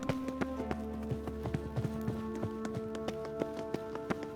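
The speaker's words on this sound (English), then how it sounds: "Footsteps." Hooflike footsteps thud in a steady walking rhythm through a Witcher 3 video game scene, regular soft taps spaced about every third of a second, moderately close over a quiet ambient backdrop with no talking.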